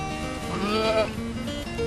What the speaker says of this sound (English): The goats belong to Merryl Winstein.